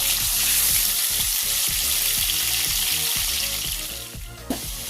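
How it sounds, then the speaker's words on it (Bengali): Cut potatoes fry loudly in oil in a wok, a dense continuous sizzle with regular scraping strokes as they are turned over and over, close and steady with no talking. "উল্টে পাল্টে লাল লাল করে ভেজে নেব।"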